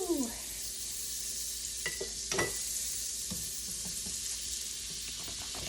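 Butter sizzling in a hot pan for a butter chicken dish, a steady bright hiss throughout with a few brief clinks and stirring sounds, a short voice heard near the start.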